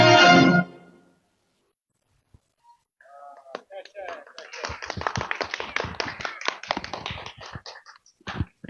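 An audience applauding after a short comedy stage skit: after a spoken line and a pause, scattered claps build into moderate, uneven applause that continues to the end.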